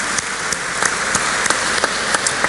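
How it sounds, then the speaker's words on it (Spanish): An audience at a business forum panel in Los Andes applauds with dense, steady clapping and sharper individual claps standing out, sustained without pause throughout. "Otro aplauso."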